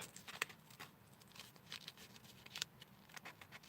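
Scissors cut paper around a picture for a vision board, making faint, close snips and crisp paper rustles in short irregular bursts over a soft background hum.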